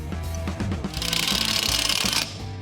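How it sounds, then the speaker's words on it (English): Power tool driving a 7/16 inch bolt into a Chevelle rear shock mount bracket, a short steady mechanical whir with a rough, buzzing rattle, close and fairly loud for about a second and a half. "drop in the bolt, and cinch it down"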